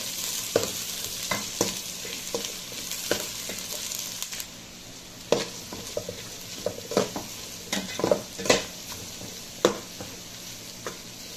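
Garlic fries in a pan with lemongrass for papaitan. A constant sizzle runs throughout, broken by repeated sharp scrapes and clinks of stirring, with a brief lull midway.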